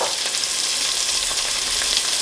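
Curry leaves and rampe sizzle loudly in hot oil for a crab curry, a steady dense crackling fry with no pauses and no voices.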